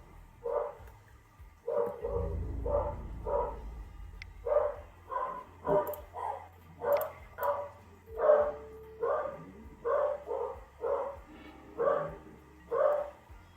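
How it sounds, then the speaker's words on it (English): Dogs barking repeatedly in a steady series of a dozen or more sharp barks, moderately near, with a low rumble in the background. "Dogs, quiet."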